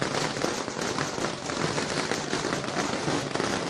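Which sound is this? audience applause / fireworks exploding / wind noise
fireworks exploding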